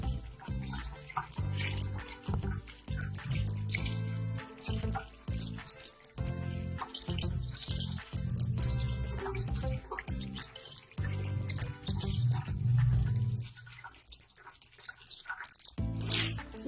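Running water splashes and drips as marinated fish pieces are rinsed by hand, with irregular squishing and trickling close up and a brief quieter pause near the end.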